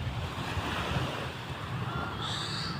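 Ocean surf at Punta Harina Beach rolls and splashes in a steady, broad wash, with wind buffeting the microphone throughout.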